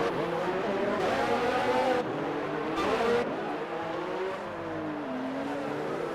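Race car engines in a racing video game, several cars whining and revving close together into a hairpin, pitch sweeping up and down through gear changes, loud and continuous.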